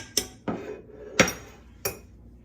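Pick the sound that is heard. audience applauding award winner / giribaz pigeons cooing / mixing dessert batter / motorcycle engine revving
mixing dessert batter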